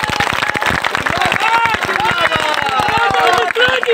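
A crowd at a political gathering in Rewa claps for MP Janardan Mishra, with dense, steady applause continuing under someone speaking over a loudspeaker.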